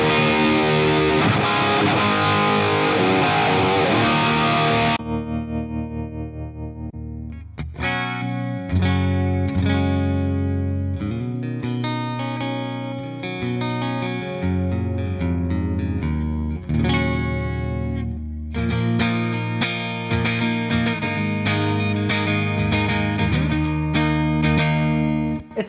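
A distorted electric guitar played through a TONEX Plug amp modeler rings out loud and saturated, a sustained chord giving way to a run of crunchy riffs and chords with no talking.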